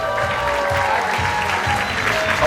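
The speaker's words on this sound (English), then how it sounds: "Ladies and gentlemen, please give a big round of applause to the People's Choice Award" Audience applause fills a hall at the Manhunt International 2025 world final as a People's Choice Award goes to Pakistan, a loud, steady wash of clapping with faint crowd murmur under it and no voice over it.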